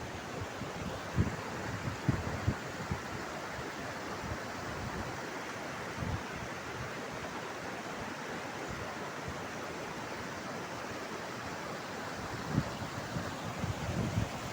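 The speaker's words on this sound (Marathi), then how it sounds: "पाण्याच्या धबधब्याचा आवाजसुद्धा" A monsoon waterfall pours from an overflowing lake near Kaneri Math in Kolhapur, a dense continuous rushing roar with a few faint knocks and wind noise.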